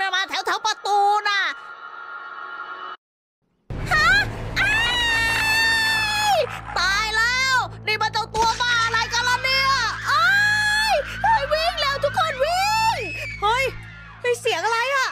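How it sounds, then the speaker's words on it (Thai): Shrill, wavering screams ring out again and again in front of a shopping mall on a rainy night, loud and close, with a brief gap of silence early on before the cries resume and overlap. "มันเป็นเสียงกรี๊ดของใครก็ไม่รู้"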